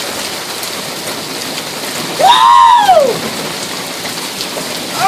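Heavy rain pours down in a steady, loud roar, with a single excited shout from a person rising briefly over the downpour partway through.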